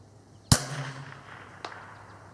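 A KSA 722 .22LR rifle fires a single sharp, close crack outdoors, followed by a brief fading tail and a faint distant report moments later.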